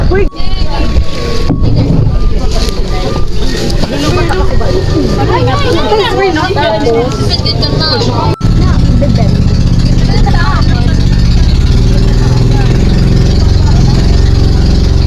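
A passenger boat travels with its engine running, a loud continuous rumble mixed with wind buffeting the microphone, while people talk and call out over it.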